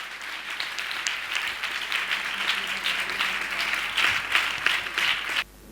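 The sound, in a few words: church congregation clapping in praise of God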